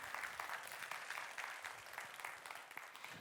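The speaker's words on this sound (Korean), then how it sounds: "여러분 뜨거운 박수로 맞아주시기 바랍니다" An audience at a church service applauds warmly to welcome a speaker: an even, continuous patter of many hands, faint and distant-sounding, lasting a few seconds with no voices over it.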